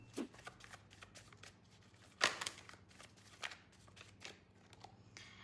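Tarot cards are shuffled and drawn close by, with soft papery riffles and slides broken by one sharp card snap, quiet and intermittent, with faint voice in the background.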